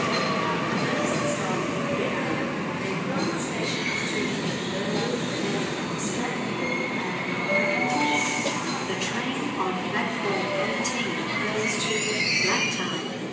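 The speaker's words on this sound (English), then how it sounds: "M-set M16 arriving into platform 19, Homebush service" Sydney Trains M-set electric train pulling into a platform at Central station, a continuous rumble of wheels and motors with squealing and clatter, steady and fairly close throughout.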